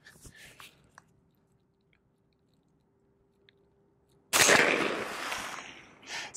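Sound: gunshot, 165 grain Federal .40 from 8-inch CMMG Banshee barrel

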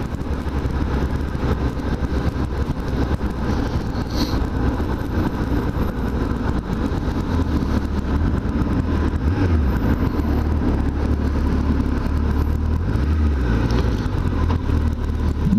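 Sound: Suzuki Hayabusa motorcycle engine while riding

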